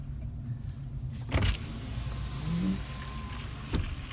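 A truck drives along a wet dirt road by Bull Shoals Lake, with a steady low engine rumble, a few bumps and thuds from the cab, and a soft squeak partway through, all close and continuous.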